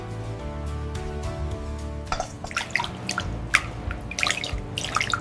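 Water dripping and trickling out during machine production of momo dumplings in a factory, irregular close drips and splashes over a steady hum of machinery.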